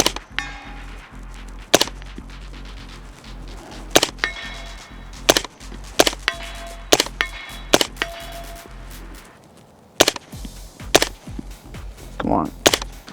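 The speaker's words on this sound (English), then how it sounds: "Let's do a little shooting here." Suppressed rifle shots through a Dead Air Wolfman suppressor, about a dozen sharp, fairly close cracks at irregular intervals over a low background rumble.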